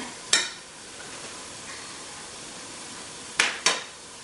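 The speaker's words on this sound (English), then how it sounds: "I'm gonna change my spatula into a sturdier spoon here because we're gonna now mix the rice in there" Leftover rice stirred with a sturdy spoon into Chinese fried rice in a hot pan: a faint steady sizzle with one sharp scrape of metal early on and two more close together near the end.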